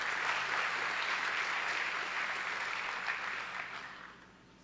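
Audience applause for school board members and a district team at an advocacy event welcome, a steady dense clatter of many hands that holds strong and then tapers away toward the end.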